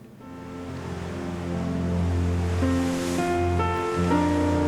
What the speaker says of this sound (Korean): 파도가 몰아칩니다.